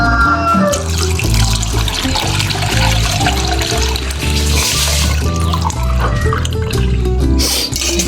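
Coconut milk pours into a cooking pot for ginataang bilo-bilo, a loud, close, continuous splashing gush that carries on without a break.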